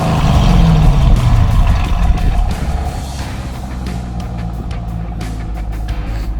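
A 1999 Chevy Corvette convertible with an LS1 5.7L V8 revs its exhaust, a deep, loud, close rumble that swells then settles into a throbbing idle.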